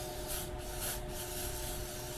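Berryman's carb cleaner is sprayed onto a carburetor from a 55-year-old Johnson outboard in short hissing bursts, faint and close, with a steady hum underneath.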